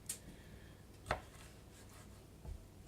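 A large knife slicing raw chicken thinly across the grain on a cutting board for stir fry, three soft, separate cutting strokes spaced over a few seconds in a quiet kitchen.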